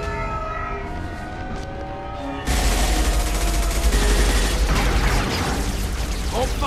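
Gunfire erupts in the video game Mass Effect 2, a sudden loud burst of dense, rapid shots after a quieter opening, continuing as a sustained clattering barrage over a low rumble.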